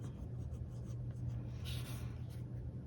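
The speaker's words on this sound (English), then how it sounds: "I'm gonna go ahead and write in my work schedule" A pen writing in an A5 Sterling Ink Common Planner, a paper planner: soft, continuous scratchy strokes that are quiet and close, with a steady low background hum.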